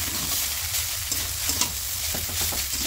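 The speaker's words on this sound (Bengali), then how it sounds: "জাস্ট 2 থেকে 3 মিনিট একটু ভাজবো।" Egg chowmein being stir-fried in a pan, with a steady loud sizzle broken by scraping and stirring strokes, close by and with no talking.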